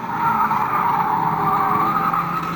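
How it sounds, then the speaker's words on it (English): Stock rod race cars at Fleet Raceway during a 2006 trailer race meeting, a loud continuous roar of engines with tyres skidding, steady and close throughout. "Here comes the stock rods, and Sam then looking on the inside of 728"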